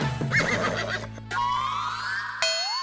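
Cartoonish donkey bray sound effect in a Hindi TV comedy scene, a few harsh wavering honks followed by rising tonal whoops and a sharp final tone, loud and alone without speech.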